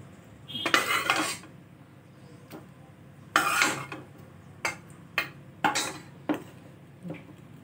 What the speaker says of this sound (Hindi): इसको हम अलग बर्तन में निकाल के रख देंगे।